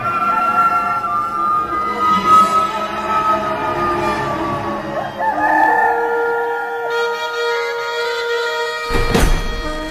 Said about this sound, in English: And at once, a rooster crowed.